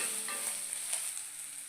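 Panch phoron spices crackle and sizzle in the hot oil left in a kadai after frying fish for a fish curry, a soft, continuous hiss with faint stirring and no talking.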